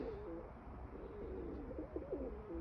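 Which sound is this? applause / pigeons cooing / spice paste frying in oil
pigeons cooing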